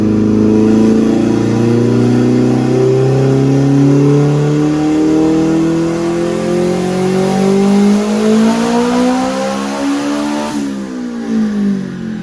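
A tuned Nissan Juke engine climbs through a long power pull, its loud, rising whine sweeping steadily upward for several seconds before dropping off at the top.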